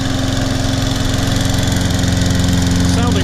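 A Toro Personal Pace Recycler 20332 self-propelled lawn mower, which has been running poorly, holds a loud, close, steady engine drone with a fast throbbing pulse, and a voice may briefly come in near the end.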